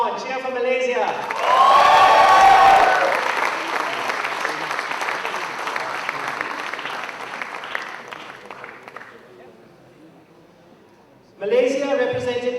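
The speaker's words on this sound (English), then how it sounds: "Guys, come on, cheer for Malaysia." An audience cheers and applauds for the Malaysia delegation at an entrepreneur summit's closing ceremony, a loud burst of clapping and shouting that fades over several seconds before a voice returns.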